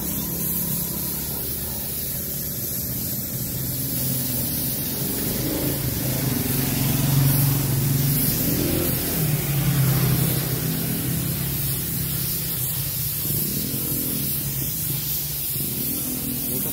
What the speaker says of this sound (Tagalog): Then, bubuga ko na po ito mga pairings.